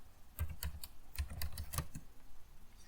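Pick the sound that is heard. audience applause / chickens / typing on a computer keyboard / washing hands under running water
typing on a computer keyboard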